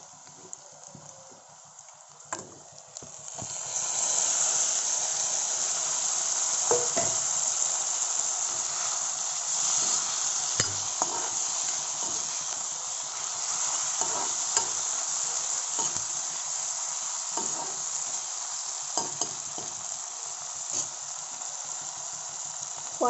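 Fish dropped into a pan of lightly browned onions sets off a loud, steady sizzle of frying, with scattered clinks and stirring scrapes over a continuous hiss for the rest of the stretch.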